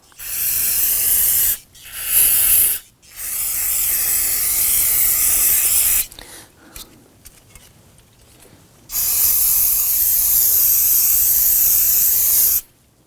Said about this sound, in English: use some spray solvent and clean up all of the rust penetrant that we used on this